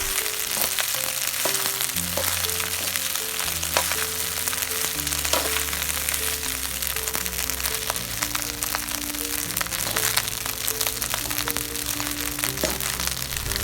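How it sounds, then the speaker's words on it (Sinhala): Garlic rice fries in a pan with a steady, dense sizzle that lasts the whole stretch, while a spoon stirs and scrapes through it with intermittent clicks, close up and with no talking. "දැන් අපි මේකට බත් එක එකතු කරලා හොඳින් කලවම් කරගන්න ඕනේ."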